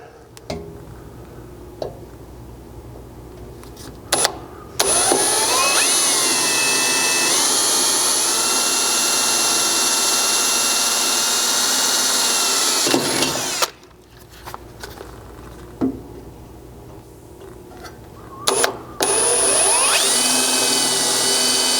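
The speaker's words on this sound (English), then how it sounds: "we grabbed an 1/8 inch drill bit to drill a pilot hole in the center" A power drill with a 1/8 inch bit whines steadily for several seconds boring a pilot hole for a Chevy Colorado skid plate install, stopping and restarting a few times with brief pauses between bursts, loud and close.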